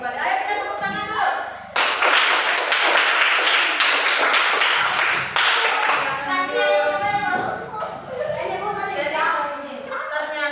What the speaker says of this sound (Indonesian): Ayo kita tepuk tangan dulu.